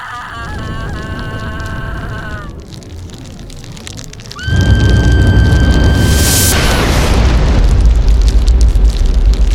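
A roaring inferno in a folk horror animated tale swells into a loud, deep, sustained rumble after a scream-like tonal cry fades, with boom-like bursts and spitting crackle filling the rest.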